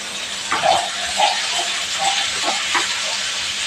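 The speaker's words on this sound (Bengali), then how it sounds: "আলুটা ভেজে দেবো একটু সামান্য হলুদ গুঁড়ো দিয়ে দিলাম" Diced potatoes frying in a pan with turmeric, a steady close hiss and sizzle with small crackling bursts and no speech.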